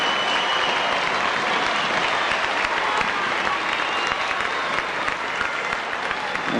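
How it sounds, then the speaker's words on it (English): Parramatta rugby league fans in a 1982 stadium crowd clap steadily as a player leaves the field, a dense, sustained roar of applause throughout. "It's a round of applause"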